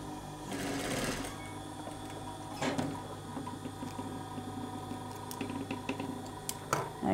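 A sewing machine tacks down the binding at a garment armhole, stitching over the original binding stitch, with a close mechanical whir in short runs broken by brief pauses and a few light clicks.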